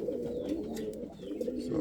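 Pigeons in a breeding loft coo steadily in a low, continuous rolling murmur, close and moderately loud with no talking.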